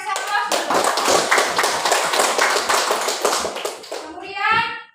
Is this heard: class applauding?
yes